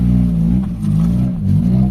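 Toyota Corolla with a 2E engine suffering low power, idling with a loud, steady low hum that dips and recovers unevenly, close up with no talking.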